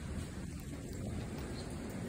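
Heavy rain falling outside during a sudden thunderstorm after hot weather, a continuous close, loud hiss with no distinct thunderclap standing out.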